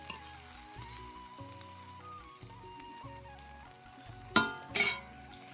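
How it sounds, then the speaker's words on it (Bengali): Onions sizzle gently in oil in a home kitchen pan, a soft, steady frying hiss with a faint hum behind it and two sharper bursts of spitting near the end. "পেঁয়াজ ভাজছি, দেখতে পাচ্ছি,"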